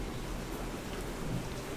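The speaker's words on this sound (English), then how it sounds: "because the rain is cooling it down" Steady rain falling outdoors in hot, humid weather as a dense, even hiss of drops with no letup and no voices.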